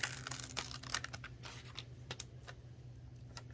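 A cut vinyl letter peeled slowly off its backing sheet, giving a continuous close crackle with quick ticks and small tearing bursts, quiet and without speech.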